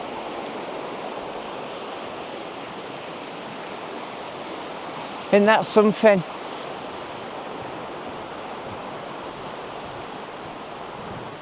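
River water at Roberton rushes steadily in a constant close wash from start to finish, with someone speaking briefly over it midway.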